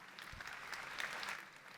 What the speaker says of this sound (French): Peut-être que nous pouvons lui donner un tonnerre d'applaudissements.